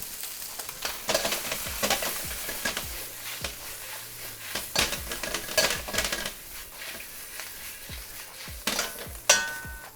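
Chilies stir-frying in a hot wok for chicken and chilies (làzijī), with a steady sizzle and frequent sharp scraping and tossing clatters of a spatula against the pan, loud and close, with no talking.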